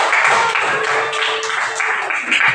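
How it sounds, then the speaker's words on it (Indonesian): Applause at a school award ceremony as a first-place winner is announced, a brief dense burst of clapping from a nearby group, loud and continuous. "Tepuk tangan dulu."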